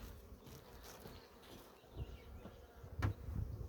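Honeybees buzz softly around an open beehive during an inspection, a faint, continuous hum with a few louder passes near the end as bees fly close.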